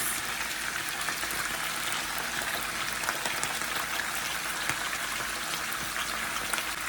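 Potatoes and onions frying in a pan for smothered potatoes, giving a steady, dense crackling sizzle that stays even and close for the whole stretch, with no voices over it.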